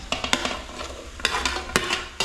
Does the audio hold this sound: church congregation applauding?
no